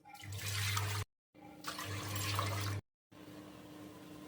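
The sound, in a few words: pouring water into pressure cooker for boiling chickpeas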